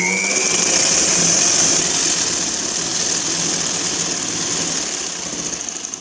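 A sewing machine stitches an umbrella-style long frock, running as a steady, loud, close mechanical whir for several seconds before easing off near the end, with no voices.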